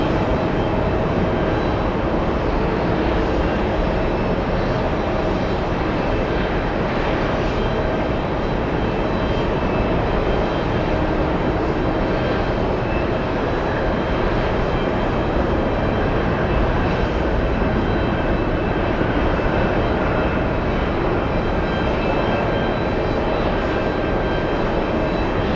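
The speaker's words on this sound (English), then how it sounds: "Here's an Atlanta flight." Jet airliner on an Atlanta flight at JFK airport, a loud continuous engine roar and rushing whine that stays broad and steady the whole time, with no speech.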